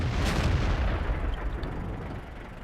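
Tank cannon fire in a tank battle video game involving a Jagdpanther and a Black Prince: a loud, close boom opens, followed by a heavy, rolling rumble that fades slowly.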